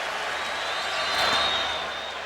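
Home crowd at a Cleveland playoff baseball game, 2007 ALDS Game 1 versus the Yankees, keeps up a steady roar of cheering that swells briefly in the middle before settling back.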